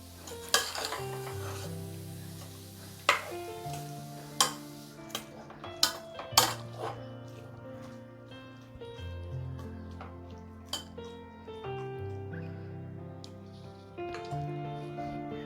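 Rice for millet biryani stirred into the vegetables in a pot, with a spoon scraping and clinking against the metal in scattered knocks, close up and set over steady background music.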